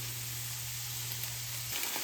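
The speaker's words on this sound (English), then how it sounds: "let them sit still for a bit and start to sizzle and pop" Peppers sit in a hot pan for hot sauce, giving a steady, soft sizzle with a faint hum underneath. A brief clatter of stirring comes near the end.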